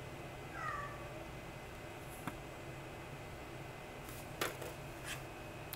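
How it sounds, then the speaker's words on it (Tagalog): A cat meows once, briefly and faintly, in a room over a steady background hiss. A few light clicks follow a few seconds later. "may nagmimira na pusa"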